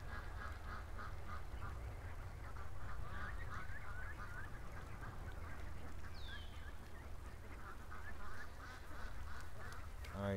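Ducks call outdoors by a muddy area, a steady chorus of quacks and honks at middle distance over low rumbling wind noise, with no clear voices.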